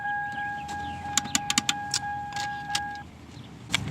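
A Chrysler Town and Country minivan's power window motor gives a steady electric whine for about three seconds, mixed with sharp clicks and a light jangle nearby, then falls quiet.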